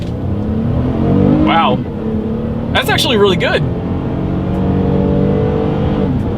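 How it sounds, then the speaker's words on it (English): A 2022 Toyota Highlander accelerates from a standstill, its engine droning steadily and fairly loudly inside the cabin while a person speaks over it. "let's see how quickly we can get our new 2022 Highlander here up to speed"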